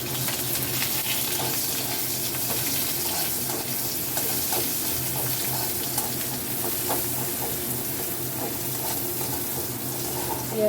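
Onions and dried red chillies fry in hot oil in a pan, a dense, steady sizzle that stays loud and close throughout, with faint stirring taps beneath it.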